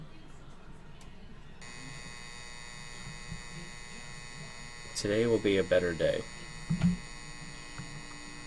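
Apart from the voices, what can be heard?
alarm clock buzzing in a PC horror video game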